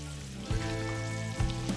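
Chopped onions added to ground beef in a hot pan sizzle steadily and loudly up close, with a couple of brief louder bursts as they hit the fat.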